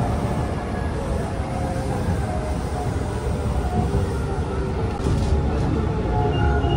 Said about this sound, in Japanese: 列車で向こう側に到着するところです。